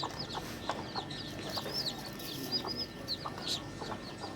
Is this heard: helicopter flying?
no